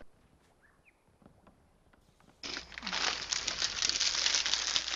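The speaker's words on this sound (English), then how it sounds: "Now that I'm back and done crinkling bags" Plastic bags are crinkled close by in a dense burst of rustling that starts partway through and continues to the end, after a quiet stretch with faint soft noises.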